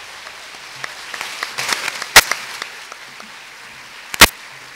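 Scattered, thin applause from an audience for a municipal band at a school ceremony, soft patter with a few loud sharp claps standing out close by.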